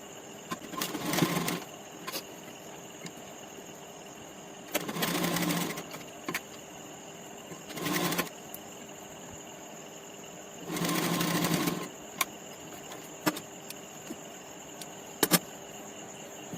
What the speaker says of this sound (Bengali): এবার আমি এটা উপর থেকে নিচ পর্যন্ত এবার সেলাই করব।